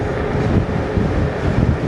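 Wind buffets the microphone while riding a VMAX VX4 e-scooter downhill, a loud continuous low rumbling roar that swells and dips, with no voices.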